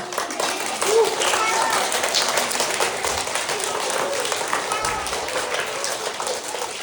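A school assembly crowd of children cheering and clapping, a dense steady wash of claps and shouts sustained throughout at moderate loudness.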